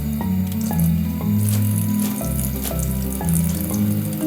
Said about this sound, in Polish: Myję dokładnie sałatę.